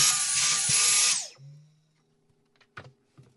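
A Dyson V10 handheld vacuum cleaner with a newly replaced battery whirs loudly for about a second, then winds down with a falling whine, followed by a few faint clicks and taps.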